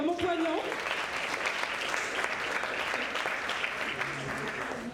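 Sustained applause from an audience at a talent show for a finalist, steady and dense clapping filling the whole stretch, with a brief voice near the start.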